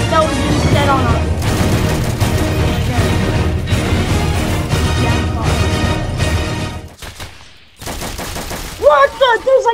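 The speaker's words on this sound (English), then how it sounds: "That was definitely a bomb." A bomb goes off in the Roblox war game Entrenched amid dense gunfire and booming blasts that fill most of the clip, loud and close, then drop out briefly before a voice speaks over renewed noise.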